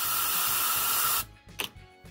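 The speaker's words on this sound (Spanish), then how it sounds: "Con un pico de aire lo que hacemos, ponemos así." A loud, steady hiss of compressed air blasting from a nozzle while cleaning motorcycle engine valves during valve grinding, cutting off abruptly, followed by a few short bursts and quiet clatter.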